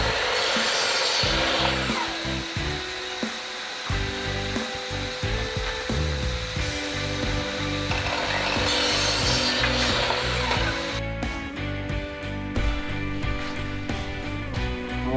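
Timber pieces cut to size on a power saw, a loud continuous whining motor with shifting pitch as the blade bites through wood, several cuts running together, close by with no speech.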